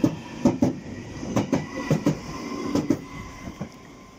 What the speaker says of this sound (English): off goes the train to High Barnet